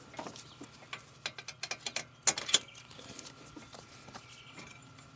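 Bearing bolts are threaded back in on a Ford Ranger, giving a series of close metallic clicks and ratcheting ticks, irregular and fairly sharp, with one brighter clatter midway and no talking.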